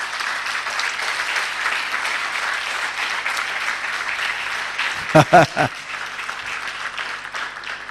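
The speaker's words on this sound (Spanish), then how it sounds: "Dale un aplauso a Jesús." Congregation applause at an evening church service, a steady broad wash of clapping through the whole stretch, with a few loud, close thumps near the middle standing out above it.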